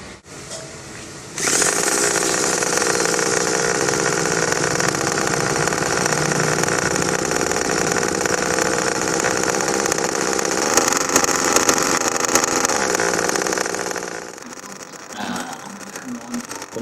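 Engine held on a run-in stand with the throttle pulled wide open and the choke open, a loud, steady, high-revving buzzing roar that starts abruptly, holds for about twelve seconds, then drops away.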